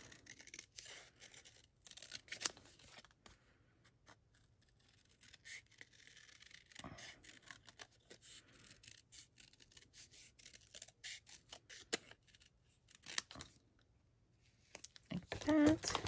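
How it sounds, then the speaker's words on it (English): Scissors snip out a simple paper shape for a handmade card, soft, close, intermittent cuts and paper rustles under occasional talking. "Now I'm going to cut this out, but it's super easy to cut because it's such a simple shape."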